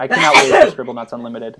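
A single loud sneeze bursts out during a video game podcast, and a voice follows immediately.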